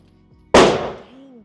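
A Smith & Wesson M&P 2.0 Competitor pistol fired at a range target: one loud, sharp, close shot with a decaying echo, alone without talk.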